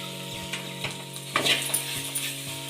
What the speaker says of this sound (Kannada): ರುಬ್ಬಿ ರೆಡಿ ಮಾಡಿರೋಂಥ ಪೌಡ್ರ್ ಹಾಕಿ ನೀಟಾಗಿ ಮಿಕ್ಸ್ ಮಾಡಿ.